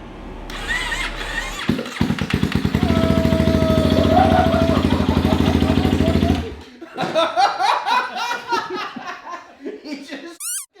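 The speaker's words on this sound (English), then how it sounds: "Brian, would you try to crank the engine up for us real quick?" A 2016 Honda CBR300R motorcycle converted to a flat tracker cranks over and catches, a loud steady pulsing chug lasting several seconds, with laughter just before and people talking right after it cuts out.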